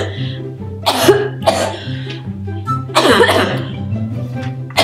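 A harsh, rasping coughing fit in a school classroom, several loud bursts close by over a steady low hum, with strained throat sounds between the coughs.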